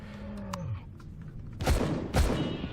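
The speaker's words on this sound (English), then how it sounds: "There's shooting at wildlife with the sentry gun." An automated sentry gun in Empyrion fires at wildlife, two loud bursts of shots following a few quieter sounds.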